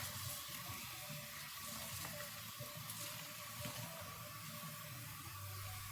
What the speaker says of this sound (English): Yes, I'm gonna add more water.